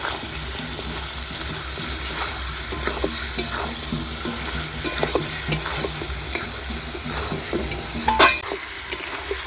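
Chicken and chopped tomato fry in a pan while being stirred, a continuous close sizzle broken by repeated scraping and clinking of the spoon against the pan.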